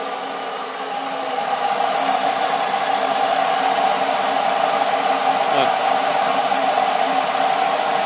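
A micro hydro turbine with a permanent magnet alternator spins at about 1,000 RPM, giving off a steady, loud, continuous whirring hum with a faint brief tick partway through.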